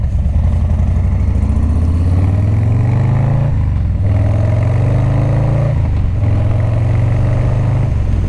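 A motorcycle engine, freshly serviced with a three-hole oil change using AMSOIL, runs loud and close, rising and falling through a few revs with steady harmonic rumble and brief dips between.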